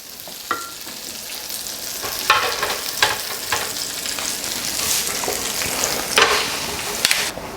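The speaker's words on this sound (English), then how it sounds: "Listen to that sizzle." Buttered French toast sizzling on a hot waffle iron, a steady close frying hiss with crackling bursts and a few faint clicks, no voices.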